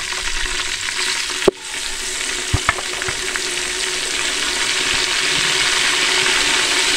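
Food frying and being stirred in a pan with deghi chilli added, a steady loud sizzle with a sharp clank of a utensil against the pan and a few light scrapes.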